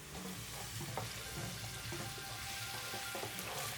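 Minced garlic fries in a pan for pasta, a steady dense sizzle holding at an even loudness with faint stirring scrapes underneath, close by and continuous with no voices.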